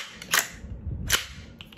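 Two sharp, close mechanical clicks from an empty pistol caliber carbine being dry-fired, spaced under a second apart, with quiet handling noise between.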